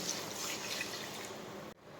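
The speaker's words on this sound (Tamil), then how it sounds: "இப்போது கிரேவிக்கு 1/2 லிட்டர் தண்ணி ஊற்றிக்கலாம்." Water poured into chicken gravy in a cooking pan, a steady splashing, trickling wash filling the whole stretch at close range, cut off abruptly near the end with a brief lull before it resumes.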